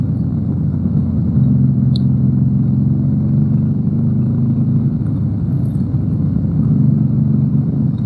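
A Harley-Davidson Iron 883 motorcycle cruises in third gear through traffic, its engine giving a steady, close, low rumble that holds an even pitch throughout with no voices.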